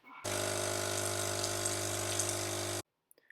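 An espresso machine pulls a double shot, its pump drone steady and close for about two and a half seconds before cutting off, followed by a couple of faint clicks.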